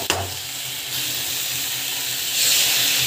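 Onions sauté in a pan with a strong, continuous hissing sizzle. The sound starts with a brief clatter and swells louder near the end, close up and with no talking.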